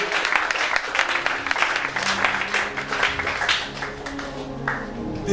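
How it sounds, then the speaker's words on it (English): Steady applause from a church congregation in Nigeria fills the space, loud and continuous with a dense patter of clapping that stays strong throughout. "I think you will clap for Jesus"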